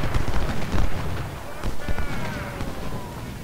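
Battle gunfire from the Civil War strategy game Ultimate General: Civil War crackles in rolling volleys and scattered pops, dense and fairly loud, with a voice speaking over it.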